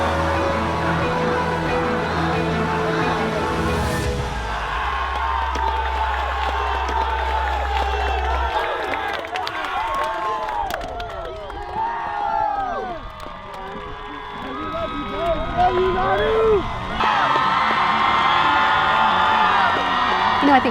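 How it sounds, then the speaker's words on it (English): A football stadium crowd roars and cheers loudly for a 17-year-old player, with whoops and shouts rising into a sustained, dense swell of voices that surges again near the end. "The crowd rises to their feet. They're chanting, Nanu, Nanu, Nanu."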